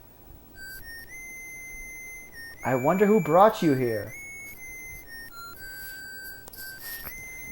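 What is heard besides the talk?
Proto Man's whistle in Mega Man 3 video game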